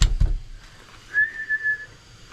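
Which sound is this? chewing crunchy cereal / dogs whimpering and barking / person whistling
person whistling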